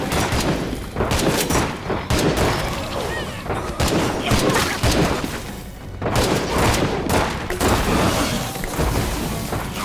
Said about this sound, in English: this is where the long-range pyro launcher can be effective